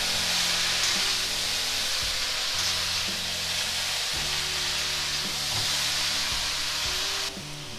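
Shredded cabbage with a splash of water being stirred in a hot pan, a loud continuous hissing sizzle with steady steam, close up, no talk.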